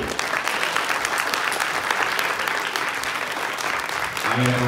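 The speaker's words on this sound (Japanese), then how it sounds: "チーム8が勝ったよっていう人を拍手" Audience applause rings out at a crew battle event as people clap to vote for Team 8, a dense, steady wash of many hands filling the whole stretch, with a brief voice rising near the end.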